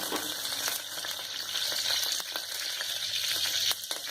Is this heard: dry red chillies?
yes